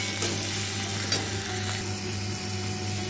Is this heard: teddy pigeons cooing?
no